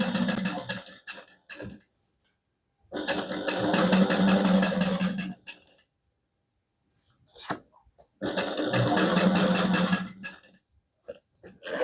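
A sewing machine stitches handbag panels in two long bursts of rapid, buzzing needle strokes with pauses between, fairly close and without talk.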